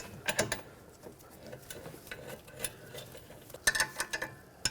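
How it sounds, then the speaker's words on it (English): A wrench tightens a rear brake caliper bolt on a 2011-2014 Hyundai Sonata, making close ratcheting clicks in short bursts separated by quieter gaps. "this one I'm just going to tighten up with a wrench"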